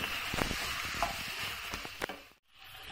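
Vegetables sizzle and fry in a pan for a Turkish-style cauliflower moussaka, a steady close hiss with scattered pops and stirring clatter before a brief drop near the end, with no talk.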